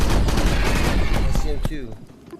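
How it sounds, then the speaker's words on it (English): Burst gunfire in the VR shooter Crashland VR rattles out as loud rapid rounds, with a voice speaking over the end as the shots fade. "Burst fire."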